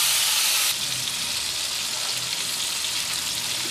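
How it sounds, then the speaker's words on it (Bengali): Chicken pieces fry in a pan for a Punjabi chicken curry, giving a steady, close sizzling hiss that runs unbroken throughout, louder for the first moment then settling into an even crackle. "আমি এগুলোকে ভালো করে ভেজে নেব"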